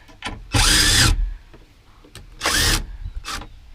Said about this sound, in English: we do need to back those screws back out here